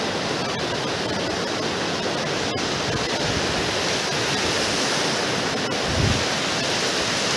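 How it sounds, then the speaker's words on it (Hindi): Water rushes and flows steadily into a pit where water is being collected at a mountain camp on the trail to Adi Kailash, a loud, unbroken close-up hiss with no talking. "सचिन यहाँ पानी भर रहा है गड्ढे में।"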